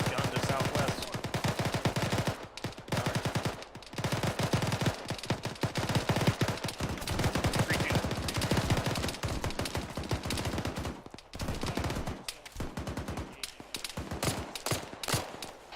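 Heavy machine-gun fire in the military game Arma, rapid sustained bursts of automatic shots rattling continuously with short gaps, loud and close throughout.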